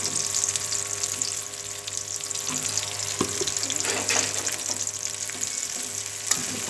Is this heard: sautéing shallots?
yes